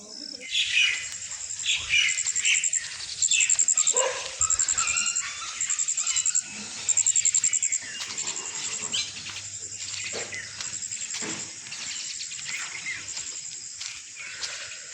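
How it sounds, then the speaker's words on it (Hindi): Birds chirp and tweet in bursts of repeated high calls around a village market in Khyber Pakhtunkhwa, Pakistan, with a faint background hum and scattered rustling; the calls fade after the first several seconds. "चेक करो किस तरह पे परिंदे यहाँ पर घूम रही है"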